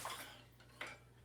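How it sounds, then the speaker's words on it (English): A banana bread baking pan being greased makes a brief scrape and clink of metal, with two light knocks over a low steady hum in a quiet kitchen. "now I gotta grease this pan"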